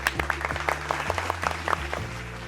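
On a television talk show, a few hosts clap by hand in a steady run of distinct, close claps over a low musical bed.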